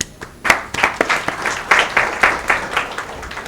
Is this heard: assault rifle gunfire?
no